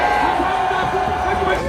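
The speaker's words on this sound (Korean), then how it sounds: "한번 윤석열 대통령 들리게 외쳐주십시오. 윤어게인! 윤어게인! 윤어게인!" A dense crowd at an outdoor political march in Itaewon shouts a slogan together, a loud, continuous wall of massed voices with no single speaker standing out.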